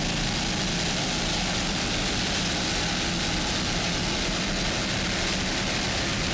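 Skater powerboats in the P1 class roar through the early moments of an APBA national circuit race, a continuous, loud, dense engine drone with no break or change in level and no talk over it.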